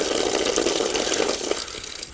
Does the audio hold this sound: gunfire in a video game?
no